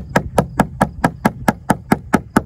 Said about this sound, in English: we're going to beat it up here, slam it on the wood, do it kind of hard